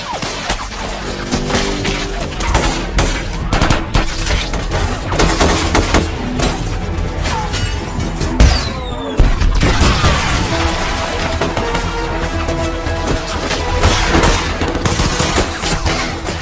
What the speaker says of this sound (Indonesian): Di sana para teroris menembak dan menghancurkan area tersebut.